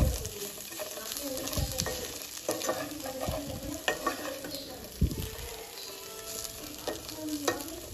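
Potatoes, beans and cauliflower frying in a pan, a steady close sizzle with occasional soft stirring scrapes and clinks over about eight seconds, no talking.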